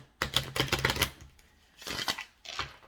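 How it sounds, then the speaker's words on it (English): Crisp riffling bursts of tarot cards being shuffled, two longer runs then a short final one, close up with no voices. "let's get a good shuffle here."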